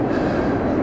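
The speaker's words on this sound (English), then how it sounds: "the passing train that you can hear in the background" A passing train rumbles steadily in the background near a waterside spot with swans, a brief, continuous broadband roar with no talking.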